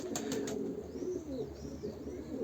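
Male bozkırlı taneli akkuyruk pigeon cooing, a soft low warbling call at moderate distance over steady background noise, with a few faint chirps at the start.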